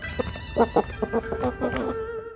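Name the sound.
dragon chicken clucking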